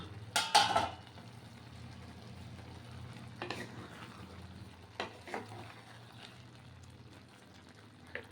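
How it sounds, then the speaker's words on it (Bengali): A pot lid lifts with a sharp clatter at the start, then khichuri of rice and lentils is stirred with a spatula in a few soft, scraping bursts over a low bubbling simmer. "তখন ঢাকনাটা খুলে আবার একটু খুন্তি দিয়ে নাড়িয়ে দিতে হবে এখন আমি এটার ঢাকনাটা খুলবো"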